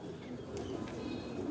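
A golden pair of pigeons coos in a low, continuous murmur, close and steady throughout, with a couple of brief higher sounds rising over the soft throaty burble.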